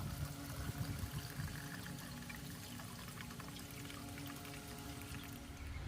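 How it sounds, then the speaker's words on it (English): Old fuel pours out of an inverted Kamplite lantern in a continuous close splashing stream, steady and moderately quiet throughout. "First of all, let's dump this old fuel."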